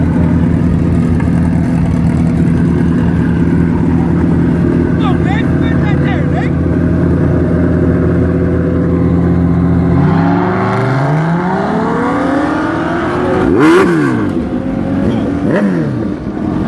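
A Kawasaki ZX14 and a BMW S1000RR accelerate hard in a grudge drag race, their engines rising in loud overlapping pitch sweeps as they pull away, with a sharp whooshing pass near the end and people talking in the background.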